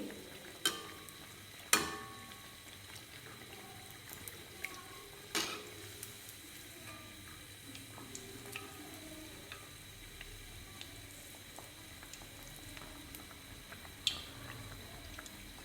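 Egg pantua deep-frying in hot oil makes a quiet, continuous bubbling sizzle, punctuated by several sharp clinks of a spoon against the pan as oil is ladled over, close and without speech.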